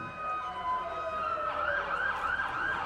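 Emergency sirens wail steadily in the distance at a Christmas parade, tones rising and falling and overlapping, with no talking.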